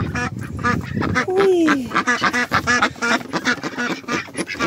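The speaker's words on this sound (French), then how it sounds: "Ils sont où les canards?" Ducks in a garden pen beside a vegetable plot quack repeatedly in dense, overlapping nasal bursts close by, with a short honk-like call partway through and a brief human voice near the end.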